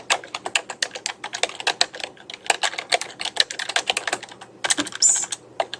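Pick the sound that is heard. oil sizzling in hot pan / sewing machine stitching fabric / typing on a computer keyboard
typing on a computer keyboard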